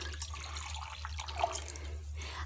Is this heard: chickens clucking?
no